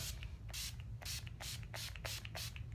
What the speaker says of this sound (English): I spray, and that is hairspray for the face